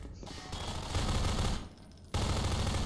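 Rapid automatic gunfire from a Half-Life 2 firefight, dense sustained bursts with brief drops between volleys, loud and close with no voices.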